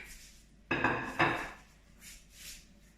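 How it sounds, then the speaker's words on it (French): Tuna croquettes set down in a frying pan, two close clattering knocks of pan and utensil a half-second apart, followed by softer faint shuffling, with no talking. "on va venir les faire griller dans une poêle"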